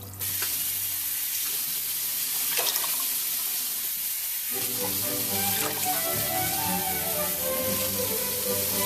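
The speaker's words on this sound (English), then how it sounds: "we're going to add another, let's say, 2 cups of just water" Water pours into a soup pot of hot vegetarian cannellini and arborio soup, a steady rushing hiss that shifts as the pour changes and settles into a bubbling simmer, close and continuous.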